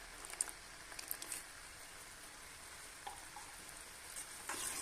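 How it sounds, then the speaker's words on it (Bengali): Ghee sizzling softly in thick semolina halwa as it is stirred, a faint crackling fry with occasional scraping clicks of the spoon, close and quiet with no voices. "দিয়ে দেবো 2 চামচ ঘি।"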